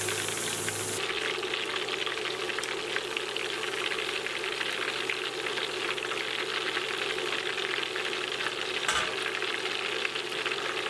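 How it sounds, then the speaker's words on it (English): Big chunks of pork ribs deep frying in hot oil, a steady, dense sizzle and bubbling that carries on evenly throughout with a brief shift in texture near the start and a momentary dip late on. "I have already finished frying my pork here for 10 minutes"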